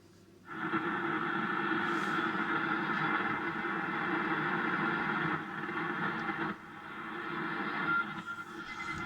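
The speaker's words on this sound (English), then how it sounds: "Quite static crashy on 40." Crackling static crashes and steady noise hiss from a ham radio receiver tuned to the 40 metre band, fed by a fixed wire two-element Yagi antenna; continuous and fairly loud, with slight shifts in level, no talk.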